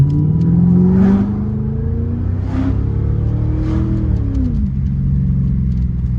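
A Lincoln hot rod's engine, muffler deleted, revs up and down several times with a loud, throaty, unmuffled rumble, close by and steady underneath.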